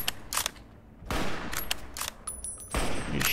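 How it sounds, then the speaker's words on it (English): Gunfire bursts in the post-apocalyptic video game Fallout New California, sharp broadband volleys and rapid shots in irregular clusters, moderately loud, with no talking over them. "I think your guys are getting shot at."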